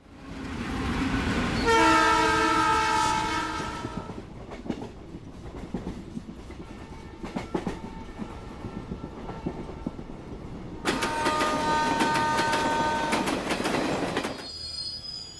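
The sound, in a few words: train at a railway station platform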